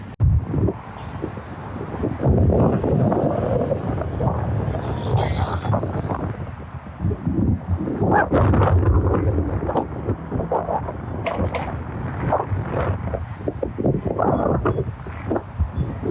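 Steady low wind buffeting a microphone at Crissy Field, rumbling and gusting throughout with brief dips, with faint voices and distant activity underneath.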